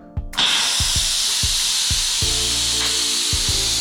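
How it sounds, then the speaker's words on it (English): An Instant Pot pressure cooker vents steam in a loud, steady hiss that starts abruptly and continues unbroken, with regular low thumps beneath it. "So now that the steam has finished being cleared, we'll just open it up."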